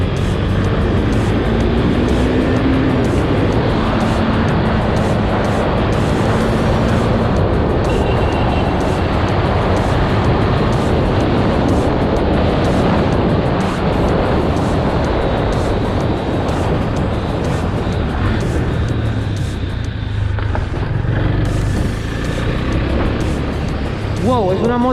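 A Husqvarna Svartpilen 401 motorcycle accelerates hard along a straight road, a loud sustained engine roar mixed with heavy wind rush throughout, with a voice speaking over it.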